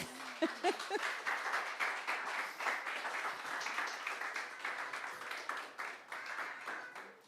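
An audience applauds actors after a church performance, steady clapping from many hands filling the room for several seconds, with a brief voice at the start.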